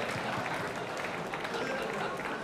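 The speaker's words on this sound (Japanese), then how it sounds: "今一度皆様盛大な拍手をお送りください" An audience at a kickboxing event claps steadily after a match win, a dense and even wash of applause from a crowd.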